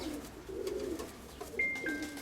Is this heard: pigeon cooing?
yes